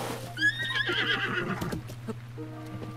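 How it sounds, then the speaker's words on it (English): A horse in the video game Breath of the Wild gives a loud, shrill whinny that falls in pitch, followed by softer snorts and hoof clatter over a low steady hum. "Whoa, a bunch of horses."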